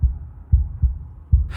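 A heavy, muffled heartbeat thumps in the game Slay the Princess, four deep pulses in an uneven rhythm, close and alone, with a brief bright noise at the very end.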